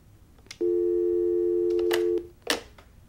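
A telephone line sounds a single steady busy tone for about a second and a half, loud and clean, followed by a couple of brief clicks and bumps.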